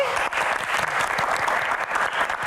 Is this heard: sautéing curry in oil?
no